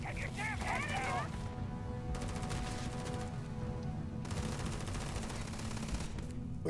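Muffled gunfire in the video game Starfield, heard as bursts of rapid shots at a moderate distance in a combat scene, with a brief voice and game effects at the start.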